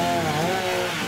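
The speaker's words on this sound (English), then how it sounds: "Chainsaw carving is using a chainsaw to make sculptures." A chainsaw runs steadily at high revs for wood sculpture carving, its loud droning engine sustained throughout the short moment with no pauses.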